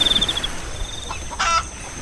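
Chickens in the Minecraft video game clucking, a quick run of short clucks at the start followed by a louder cluck later, close and clear over quiet background, no voices.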